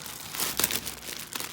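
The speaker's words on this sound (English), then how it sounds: "I'm gonna try to get this plastic bag open" A plastic bag around a fireworks order is crinkled and torn open by hand, giving a close, steady rustle with a sharper tearing rip near the middle and a brief crackle at the end.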